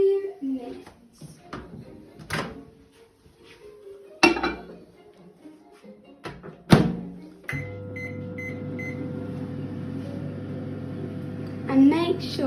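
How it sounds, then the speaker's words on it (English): A microwave oven hums steadily for several seconds in a kitchen, following bursts of clattering dishes and a door being handled, with people talking nearby. "Then you're going to put it in the microwave for 2 minutes."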